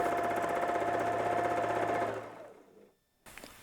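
A sewing machine free-motion quilting an arc on a quilt top, steady rapid needle hammering close by, slowing and stopping after about two seconds, followed by a brief pause and a faint rustle.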